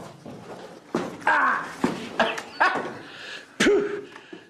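Dog growling and giving several short barks and yelps in a close indoor setting, spaced bursts separated by brief pauses.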